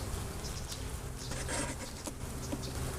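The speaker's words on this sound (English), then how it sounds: "a lot of bees in here" Honeybees buzzing inside an open hive during a summer inspection, a dense, steady drone of many insects close by with scattered louder passes, with no voices over it.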